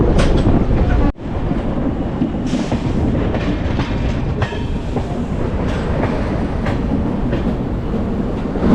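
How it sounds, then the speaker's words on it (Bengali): Shalimar Secunderabad Weekly SF Express 22849 running on the tracks while curving right: a loud, steady rumble and rattle of the rolling carriages heard from on board, continuous throughout, with no talking. "ওই যে দেখতে পাচ্ছেন আমাদের ট্রেনটা ডান দিকে বেঁকে যাচ্ছে"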